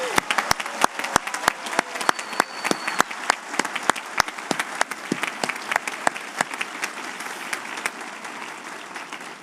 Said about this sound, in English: Let's give them a quick applause.